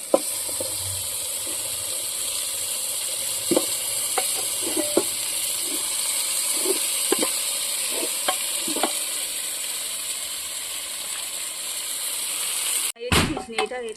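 A pan of hot sizzling tempering hisses loudly and steadily, with scattered clicks of a spoon stirring, before a sudden splashy burst near the end as boiled mixed lentils for navratan dal are tipped in.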